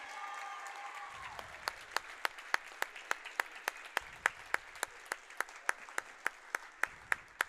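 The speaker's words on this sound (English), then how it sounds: "Please give him a round of applause." A gym crowd at a high school basketball game applauds a coach's 200th win: broad, steady clapping rises after a brief pause, then rhythmic sharp claps punctuate the ovation for several seconds.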